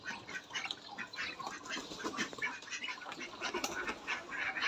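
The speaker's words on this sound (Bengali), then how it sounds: "এখন আমার হাঁসগুলো একটা করে বাইর হবে।" Domestic ducks quack in a busy overlapping chorus as they file out one by one from their shelter, nearby and fairly even in loudness, with no talking.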